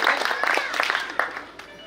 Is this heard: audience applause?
yes